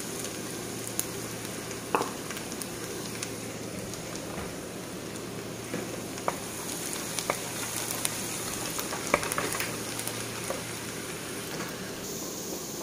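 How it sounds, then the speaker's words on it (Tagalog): Garlic sizzles and fries steadily in hot oil in a pan, a constant crackling hiss broken by a few scattered sharper pops and stirring clicks. "Ayan, gigisan na po natin ang aking bawang."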